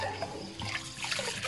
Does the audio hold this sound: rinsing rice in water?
yes